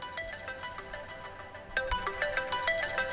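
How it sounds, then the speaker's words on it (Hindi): A mobile phone ringtone plays as a melodic electronic tune in a Hindi-dubbed movie scene, with repeated tonal notes getting louder and busier halfway through, heard clearly without talk. "खसखसे का फोन। उठाओ उठाओ।"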